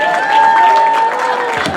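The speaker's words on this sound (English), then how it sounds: "Give a big hand." An audience at a voice actor panel at San Diego Comic Con claps and cheers loudly and steadily throughout, with voices mixed into the crowd noise.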